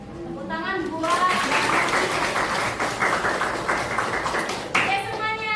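A classroom full of students bursts into applause, several seconds of dense, lively clapping close by, with a teacher's voice heard just before and right after it.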